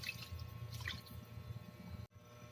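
Water poured into a pan of sautéed garlic and soy sauce, a soft close sizzle and splash that stops abruptly near the end, low and quiet throughout.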